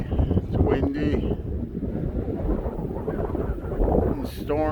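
Strong wind during a snowstorm on a snowmobile-trail walk buffets the microphone in a loud, continuous low roar with gusty surges throughout.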